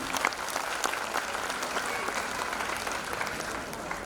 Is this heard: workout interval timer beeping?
no